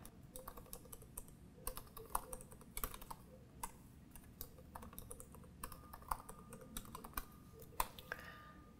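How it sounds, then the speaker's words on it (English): Quiet typing on a computer keyboard, a string of soft irregular key clicks and taps with occasional sharper strikes, heard alone with no talk. "you'll type in P-R-O-P and then tab tab"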